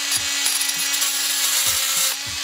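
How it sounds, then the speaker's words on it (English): A power saw cuts a bolt shorter in a garage, a loud steady high whine with a low motor hum underneath and a few short knocks, no voices. "I'm gonna cut this bolt,"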